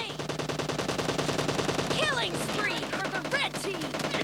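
Rapid automatic gunfire in Call of Duty zombies mode, dense rattling bursts that run almost the whole time, with a few brief voice sounds mixed in.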